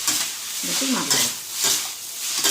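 Veg noodles tossed with soy sauce and chilli sauce in a hot pan, with a rhythmic series of scraping stirs over a continuous sizzle, close up.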